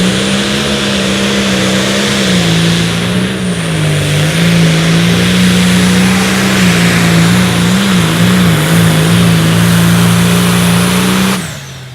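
A pro stock pulling tractor's engine roars at high revs for about eleven seconds at a tractor pull, its pitch wavering as the throttle works, then cuts off abruptly.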